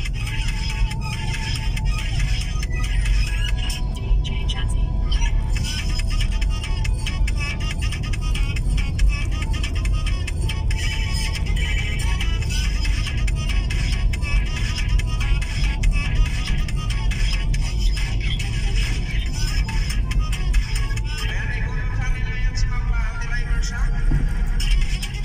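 A Grab taxi car driving on the road, with a steady loud engine and road rumble filling the whole stretch from inside the cabin, plus faint tonal chimes and background sounds layered over the drone.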